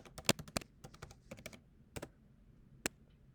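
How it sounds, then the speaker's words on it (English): Someone types an SSH command and password on a computer keyboard, a quick irregular run of sharp, close key clicks with short pauses and a few isolated final taps, fairly quiet, with no talking. "then type in your password"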